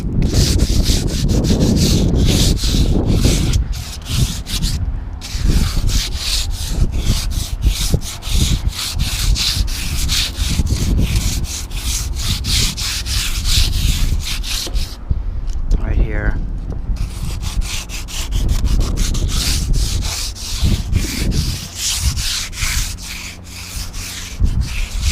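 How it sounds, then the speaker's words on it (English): Hand sanding of painted wooden deck boards, a steady scratchy rubbing that runs nearly continuously up close, with brief pauses and a voice talking over parts of it. "there's some wood, some fibers, and it just sands off"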